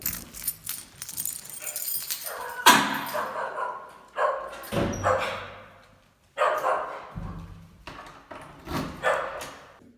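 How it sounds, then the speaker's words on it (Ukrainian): A neighbour's dog barks loudly in repeated bursts with pauses between, fairly close, alongside some jangling clatter, with no talking. "в мене з'явилася собачка-сусідка. І вона орет, як резана."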